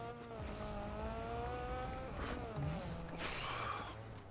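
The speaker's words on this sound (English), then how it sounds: "Dang, the exhaust on this sounds nice." A car engine in the video game Fortnite revs with shifting pitch, its exhaust note rising and falling quietly, along with a brief breathy vocal sound partway through.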